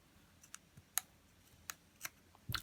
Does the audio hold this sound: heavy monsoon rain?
no